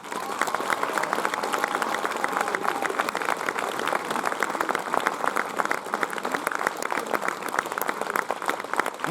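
Sustained, dense applause from a concert audience, steady and continuous throughout with no talking over it.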